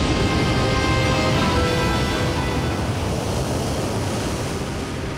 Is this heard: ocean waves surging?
yes